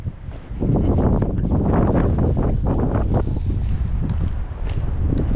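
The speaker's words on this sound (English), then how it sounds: "It's a wee bit windy." Strong wind buffeting the microphone outdoors along a walking route, loud continuous rumbling gusts that swell and ease without letup, no voices.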